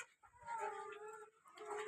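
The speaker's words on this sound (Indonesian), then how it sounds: "Kandang baterai ini ditempatin ayam ini udah lebih dari 1 bulan ya." Laying hens kept more than a month in a battery cage cluck softly and continuously, faint and steady, with a low rustle underneath.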